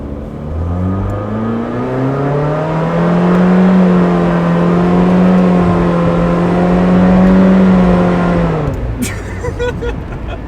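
A rental Nissan Versa with a CVT accelerates hard, its engine droning at a loud, steady, slowly rising pitch from inside the cabin, with no gear shifts, before cutting off near the end.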